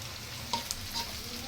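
Potatoes fry in a pan with turmeric, giving a steady, soft sizzle and a few light stirring taps over a brief moment.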